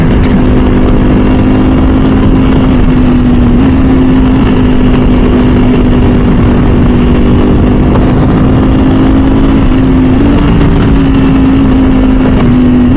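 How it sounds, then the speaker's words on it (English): A Ducati or MV Agusta sport motorcycle with a dry clutch and race exhaust runs loud and close, a steady, throaty engine drone that holds a nearly constant pitch with slight wavers throughout, no voices. "The power, the sound, the dry clutch, the race exhaust, the way it sounds"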